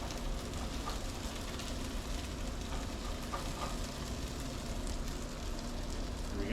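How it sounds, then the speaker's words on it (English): Potatoes dropped into a hot frying pan with onions give a steady, broadband sizzle and crackle that runs unbroken throughout, close and moderately loud, with a faint scrape near the end. "I'm going to simply add the potatoes"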